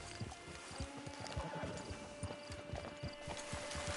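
A horse's hooves clip-clopping in the Red Dead Redemption 2 video game, a steady, close rhythm of thuds over a low hum, with no talk.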